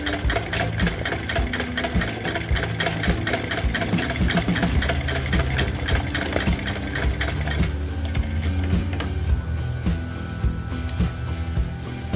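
A plain sewing machine makes buttonholes, its needle pounding in a fast, steady mechanical rhythm close up. Toward the end the stitching slows into a softer, uneven whirr.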